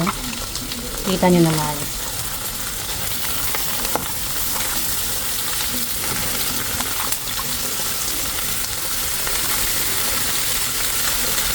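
Eggplant fries with shrimp paste in a pan, a steady sizzle with a clink of stirring near the start, while a voice talks briefly over the cooking.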